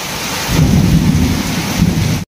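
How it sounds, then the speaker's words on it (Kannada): Heavy rain pours down loud and close, with a deep rolling rumble of thunder under the dense hiss before it cuts off abruptly. "ಒಂದು ಮಳೆ ಫುಲ್ಲು ಜೋರಿ"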